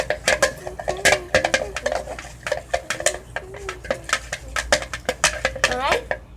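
Spoons clinking and scraping against a bowl while mixing glue-stick slime, a run of sharp, irregular metallic taps and scrapes close up, with people talking between the hits.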